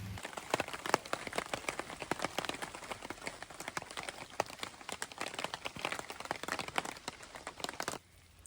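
Rain falling steadily in Bruce Peninsula National Park with dense patter and scattered sharper drips close by, continuous until it cuts off abruptly near the end.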